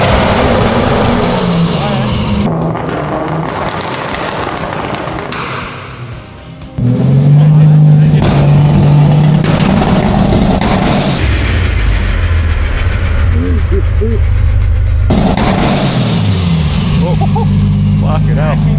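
A tuned car engine revs hard on a dyno with anti-lag enabled, loud and close, rising through sustained roaring pulls with sharp popping bangs, while people talk and shout over the noise.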